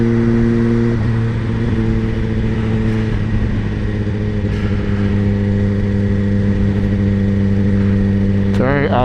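A 2024 Suzuki GSX-R1000 motorcycle cruising on the highway, its engine holding a loud, steady mid-pitched drone with wind roar, a rider talking over it at times and a brief rise at the end.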